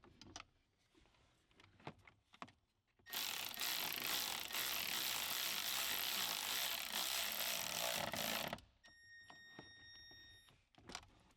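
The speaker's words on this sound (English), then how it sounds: "Tighten it on with one of the provided bolts and nuts" A ratchet or power tool tightens the provided bolts and nuts on a weighted short shift clamp for a B8/8.5 Audi shifter, a loud continuous buzzing run of several seconds between quiet clicks and taps.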